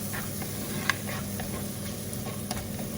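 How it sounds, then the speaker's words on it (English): Softened onions with a teaspoon of turmeric powder sautéing in a hot pot over a medium flame, giving a constant soft sizzle with occasional light scrapes and taps of a stirring spoon, close and without talk. "onions have started becoming a little soft, you can add like 1 teaspoon of turmeric powder. Saute again."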